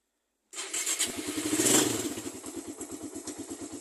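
A Raider carburetor motorcycle fires up on a single press of the starter, catching quickly and settling into a steady, close, chugging idle with a slight mechanical clatter.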